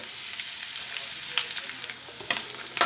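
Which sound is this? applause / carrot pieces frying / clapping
carrot pieces frying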